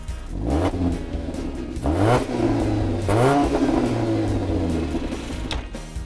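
A 2017 Jeep Compass Trailhawk with a 2.4-liter Tiger Shark four-cylinder accelerating, the engine note climbing steadily through a couple of gear changes, loud and close with no talk over it.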